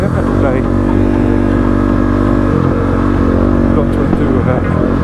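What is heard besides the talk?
Kove 450 Rally motorcycle engine off-road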